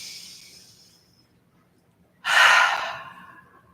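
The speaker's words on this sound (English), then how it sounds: "Let's take about 3 or 4 cleansing breaths." A soft exhale fades early on, then after a pause a deep, loud breath rushes out through the open mouth and trails off slowly, a cleansing breath in a beginner yoga session.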